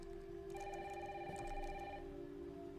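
A telephone ringing in a video game scene, a bright tonal ring lasting about a second and a half over steady background noise and music, moderately faint.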